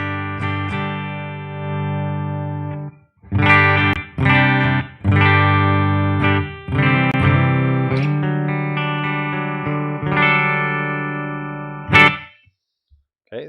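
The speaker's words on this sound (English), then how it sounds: "Let's put in a Princeton reverb." Clean Gibson-style electric guitar played through a modeled Princeton Reverb amp, with separate strummed chords and ringing notes, some short and some sustained, a final sharp strum, then silence; no talking.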